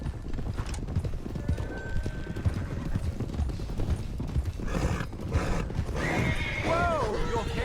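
Horses in Red Dead Redemption 2 clip-clop steadily throughout, with a horse neighing loudly near the end and game ambience underneath.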